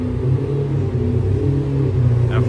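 A McLaren F1 GTR race car rumbles close by with a low, throaty engine note during Monterey Car Week, steady and loud for a couple of seconds with little else around it.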